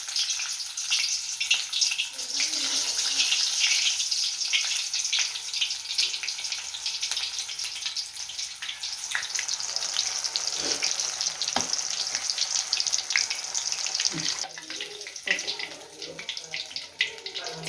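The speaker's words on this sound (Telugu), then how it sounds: "ఆయిల్ హీటెక్కిన తర్వాత కట్ చేసి పెట్టుకున్న మిరపకాయ బజ్జీని పిండిలో ముంచుకొని ఆయిల్లో వేసుకోవాలి" Batter-dipped chilli bajji fritters frying in hot oil, making a constant bright, dense sizzle with scattered pops and crackles close by, steady for the whole stretch.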